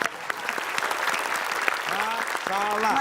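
A room full of people claps steadily, with a voice calling out over the applause near the end.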